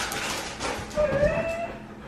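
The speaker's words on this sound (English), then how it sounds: "just our almost 13-year-old dog here" An almost 13-year-old dog whimpers with a thin, wavering whine and a short bark, close by, while faint human voices murmur in the background.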